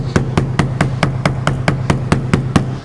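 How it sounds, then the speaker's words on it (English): A fist thumps rapidly along the edge of a stuck BMW X5 E53 rear door, about a dozen quick, evenly spaced knocks with a hollow body-panel resonance, close and loud. "you can just, vibrate it free just by, making your fist into a bit of a hammer"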